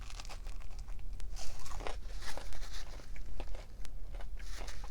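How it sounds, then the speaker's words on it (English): Repeated crunchy bites into the crisp end of a Papa John's Philly cheesesteak Papadia, close and textured, with crinkling wrapper sounds and no talking. "The end is really crunchy right here."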